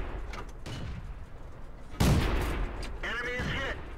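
A single loud tank cannon blast from a Renault UE 57 in World of Tanks lands midway, ringing out over a low battle rumble, followed by a brief tonal game sound.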